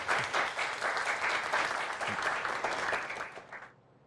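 An assembled school audience claps for teachers being honored, a dense, even burst of applause that runs for a few seconds and then cuts off abruptly.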